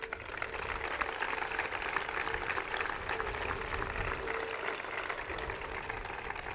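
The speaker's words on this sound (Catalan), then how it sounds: "Per tots ells, un fort aplaudiment." A hall full of people at a political party gathering claps in a sustained, dense wave of applause that holds steady for several seconds with a faint low rumble beneath.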